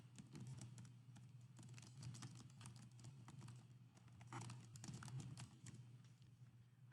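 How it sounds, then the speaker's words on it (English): Someone types on a computer keyboard, quick bursts of soft key clicks with short pauses between them, fairly close and with no talking. "I can continue to type."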